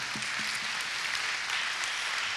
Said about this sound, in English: A little round of applause for them.